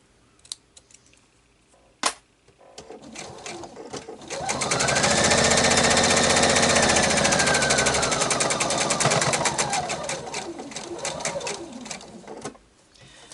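A sewing machine stitches a quilted table topper in one sustained run of several seconds, steady and close, with a rising and falling whine of the motor, preceded by a few sharp clicks.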